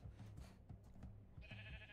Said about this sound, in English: That's a random sheep.